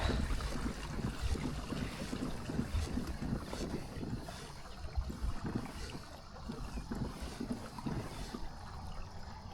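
A boat motors into slack water beside a river ramp on the Missouri River, with a steady low engine rumble and wind buffeting the microphone throughout, no voices.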